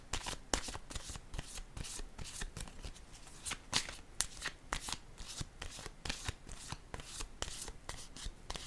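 Tarot cards are riffled, shuffled and laid down in a quick, close, crisp run of papery flicks and soft slaps, with no talking.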